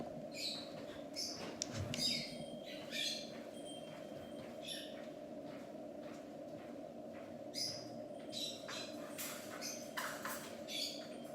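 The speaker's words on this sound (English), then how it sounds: "you can hear my parrots" Scattered parrot squawks and chirps come from a room away, faint and intermittent over a steady low hum.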